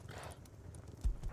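Horse hooves clip-clop in the survival game Rust, a short burst of a few soft, close hoof thuds with no talk over them.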